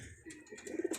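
Racing pigeon cooing softly at close range in a short burst of low, throaty murmurs, with a few faint higher chirps mixed in.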